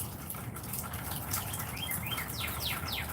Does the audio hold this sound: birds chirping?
yes